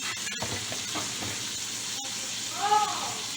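A steak sizzles steadily in a hot pan, with broadband hiss and a few sharp clicks from handling along the way.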